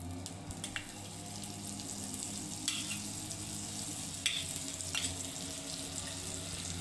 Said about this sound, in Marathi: त्यासोबत खाण्यासाठी आता आपण पाव शेकून घेऊ.